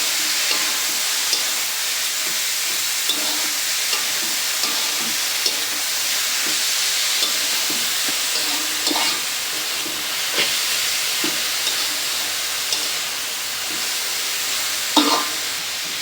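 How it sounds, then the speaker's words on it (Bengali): Spinach frying in a pan gets stirred, a constant loud hiss of sizzling and steam with occasional soft scrapes and taps of the spoon, close up and without talking. "এখন ভালো করে নেড়ে করে মিশিয়ে নেব।"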